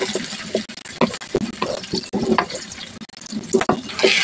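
Chopped onion is frying in oil, giving a soft crackling sizzle broken by the scrape and clatter of a spoon stirring the pan, close and uneven.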